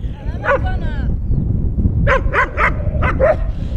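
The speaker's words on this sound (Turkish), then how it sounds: "Köpekler bir yerde anlaşamıyorlar." Stray dogs at a dump bark and yip in short quarrelling bursts, one early yelp and a rapid cluster of barks later, nearby and loud over a rough, noisy outdoor background.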